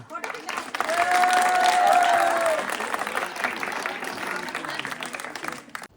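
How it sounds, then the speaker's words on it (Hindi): Students at a school farewell party clap together as a crowd, a sustained, fairly loud burst of applause with a brief whistle-like tone early on, gradually thinning toward the end. "तालियां बजाओ जरा।"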